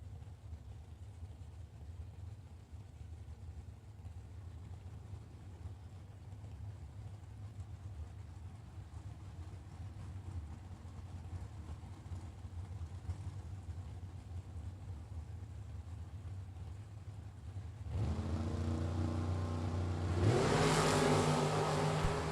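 A Corvette and a 1990 Chevrolet Camaro at a drag race: a distant low engine drone builds slowly, then loud revving and a sudden roaring launch burst out near the end.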